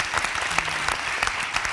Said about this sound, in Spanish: pues un aplauso al Cineclub de aquí del Cervuna